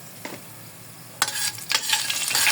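Annatto seeds frying in oil, a soft sizzle that swells into louder crackling and hissing after a quiet start, close by.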